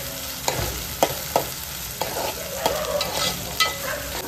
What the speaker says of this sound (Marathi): आता मीडियम फ्लेमवर आपण पटकन कांदा आणि टोमॅटो छान शिजवून घेऊया